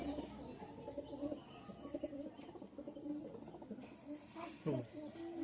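Tournament pigeons coo softly and intermittently at close range amid a cluster of birds, with people talking over and between the calls and low background noise.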